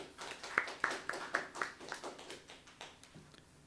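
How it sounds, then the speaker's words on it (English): Scattered audience clapping at a music college presentation, a handful of sharp separate claps that thin out and fade within a few seconds. "Please, a big applause for them."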